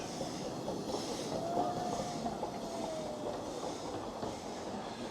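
Narrow-gauge train of the Ravenglass and Eskdale Railway running around at Ravenglass, a steady rumbling roll with a faint wheel squeal partway through, heard from a distance without talk.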